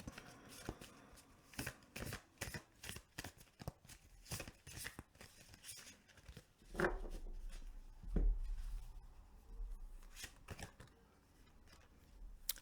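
A crystal tarot deck is shuffled by hand in a long run of quick, crisp riffles and flutters. A couple of heavier card bridges and taps stand out partway through.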